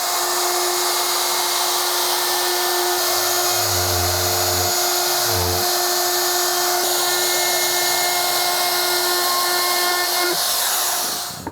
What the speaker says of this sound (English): I am going to use my router to just put a slight bevel on this on the outside